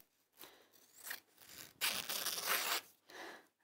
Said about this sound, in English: I'm going to just do this with the scissors because it's so big.